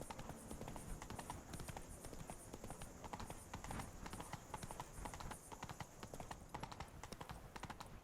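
Hooves clip-clop steadily as Roach the horse gallops in the video game The Witcher 3, with a fast, even rhythm that stays faint and continuous under a soft game ambience.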